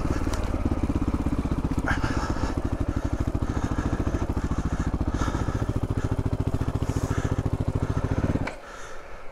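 A 2022 GPX Moto FSE450R motorcycle runs with a loud, rapid, steady engine pulse and mechanical clatter through the ride, then cuts abruptly to a quieter idle.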